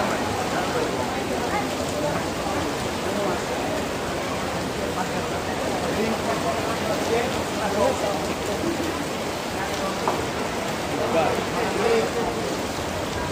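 Heavy rain pours down steadily as a dense, continuous hiss that fills the whole stretch, with no break in its intensity.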